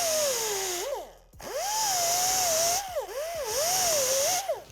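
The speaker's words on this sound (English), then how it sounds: "I'm gonna try and shave about an 1/8 inch off of these rubber stops here" A high-pitched power tool shaves rubber seat stops off a Honda CT70, its whine rising and dipping under load in a few passes, with short pauses where the tool spins down.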